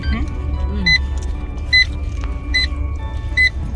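A car cabin on a drive home from a shopping trip, with a low engine and road drone throughout and four short, evenly spaced two-tone chimes, probably a seatbelt or dashboard warning, ringing out over the hum.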